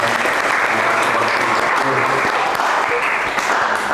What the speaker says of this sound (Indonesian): Beli tepuk tangan dulu dong